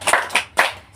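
Children in a classroom clap the 'tepuk salut' routine: three crisp, evenly spaced claps in quick succession, close and clear, with no talking over them.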